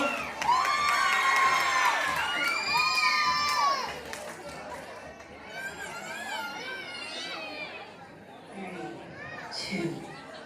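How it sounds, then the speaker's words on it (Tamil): A crowd cheers and shouts loudly for a dancer at a senior performance of a summer dance fest, with high excited voices swelling for a few seconds and then settling into a busier, lower crowd murmur. "பிரதீஷ்காக ஒரு பெரிய கைத்தட்டல் கொடுக்கலாம்"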